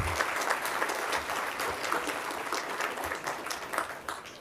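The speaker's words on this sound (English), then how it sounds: "let's give him a warm round of applause" A conference audience at an economic development launch event claps for a new executive director, a dense, steady burst of applause lasting a few seconds with no talk over it.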